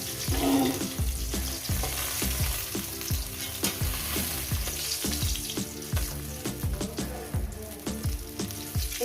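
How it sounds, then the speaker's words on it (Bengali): Bhola fish fries in hot oil with a steady loud sizzle, broken by frequent rhythmic scrapes and taps of a spatula stirring in the pan, without any voices. "বাদ বাকি মাছগুলো আর এগুলো ভেজে নিয়ে দিচ্ছি"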